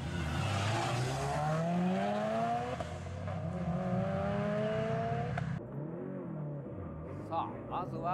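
A Subaru WRX STI VAB races along a mountain touge road, its engine revving loud and close with rising gear pulls, then a shift and fading rumble; talk runs underneath.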